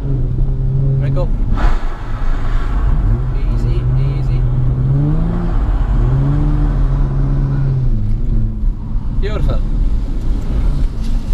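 A Nissan 350Z drifting on a track at a driving experience day, its engine droning loudly and steadily with rising and falling revs, heard from inside the car with people talking over it.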